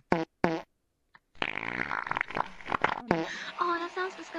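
A voice imitates a long fart in a VRChat game, giving a drawn-out buzzing, sputtering blurt after a couple of shorter vocal bursts, close and loud.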